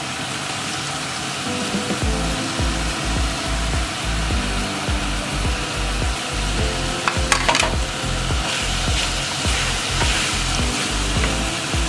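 Garlic and four large onions hit a hot pan for pasta Genovese, producing a dense, steady sizzle close by with occasional stirring clatter and no talk.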